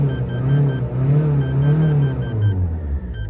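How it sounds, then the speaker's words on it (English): A Dacia Renault car engine at idle revs up and eases back in repeated rises, a close, steady mid-pitched drone, with an intermittent dashboard beeping chiming in regular bursts over it. "I'm going to rev it, so you're going to see the revo meter go up"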